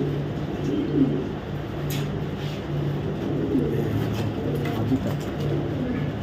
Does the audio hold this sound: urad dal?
no